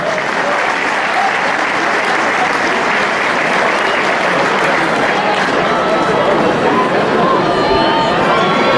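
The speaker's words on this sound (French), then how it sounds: "on applaudit Eric Laïc, s'il vous plaît" An audience applauds at a local amateur football match, dense sustained clapping from a crowd of spectators that stays loud and even throughout, with some voices mixed into the noise.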